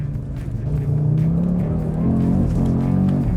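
A 2023 Audi RS3 engine revving hard through a skidding, drifting corner, with a loud, sustained, deep rumble whose pitch climbs and holds, and no talk over it.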